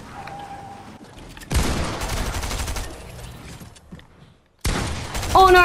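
Gunshots in the video game Fortnite, played in Creative mode: two dense bursts of rapid firing separated by a quieter stretch, moderately loud.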